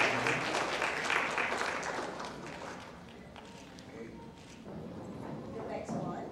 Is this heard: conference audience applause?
yes